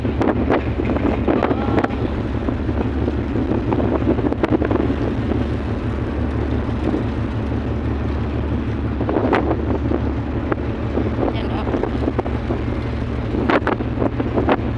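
Strong wind roars and buffets the microphone steadily over a low engine hum on the upper deck of a 2GO passenger ship bound for Manila, with brief exclamations from a voice now and then.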